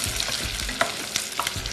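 Onions sauté in a hot pan, giving a steady close sizzling hiss broken by a few sharp stirring scrapes and clicks, with no talking.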